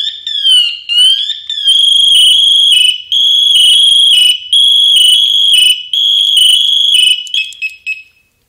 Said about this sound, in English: I'll go ahead and let you listen to the PASS device. When you don't move for a certain amount of time, it comes on.